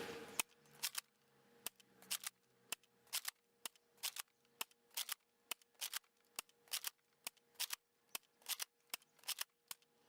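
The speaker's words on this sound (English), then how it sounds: "Loading and firing 10 into the stock Retaliator." Nerf Retaliator blaster in stock form firing ten foam darts one after another outdoors, with sharp, loud pops at an irregular rhythm and fainter clicks of priming and loading between shots, no talking.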